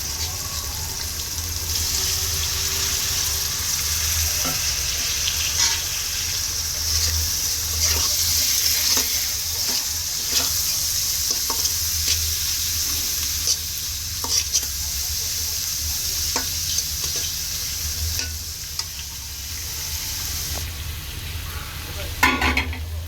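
An egg fries in a pan on a stove turned up to a higher flame. The loud, steady sizzle continues throughout, broken by occasional scraping and stirring knocks close by.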